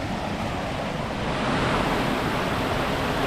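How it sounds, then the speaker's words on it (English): A small unnamed waterfall at a fork in a creek near Saluda, North Carolina rushes in a loud, constant broadband roar close to the listener, with no talking. "There's a little waterfall right here, probably an unnamed one."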